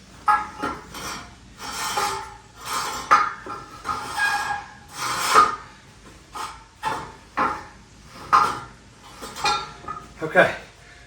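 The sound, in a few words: wiping a tractor tire rim dry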